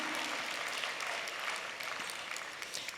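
An audience claps warmly for a speaker's husband, a dense, steady burst of applause filling the room throughout, fairly loud and unbroken by voices.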